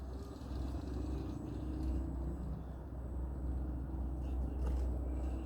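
An FCX10 RC crawler truck grinds over rocks with a steady, continuous rumbling drive noise that holds at an even level throughout.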